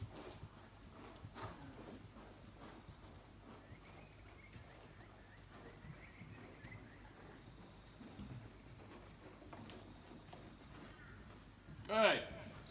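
Horse cantering around an arena, the soft rhythmic footfalls faint and steady, with a loud burst of noise near the end.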